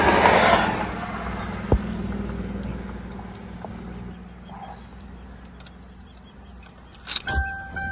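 Freshly cut replacement keys for a 2003 Lincoln Town Car jangle briefly up close at the start, then quieter handling clicks and a short metallic rattle near the end over a low hum.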